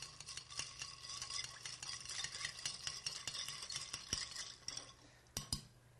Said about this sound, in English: Go ahead and stir it up.